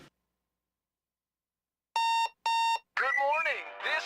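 An alarm clock in a Hardee's breakfast radio advert gives two loud electronic ringing bursts, then a voice starts talking.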